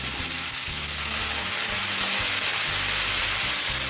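Malabar spinach hits a hot pan of spiced oil with turmeric and chili powder and sizzles loudly and steadily. The frying hiss runs without a break under occasional stirring scrapes.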